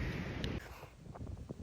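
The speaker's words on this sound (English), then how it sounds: "Yet another wet and windy day" Steady broadband wind noise buffeting the microphone on a farm lane on a wet, windy December storm day, loud and close, with faint rustling underneath.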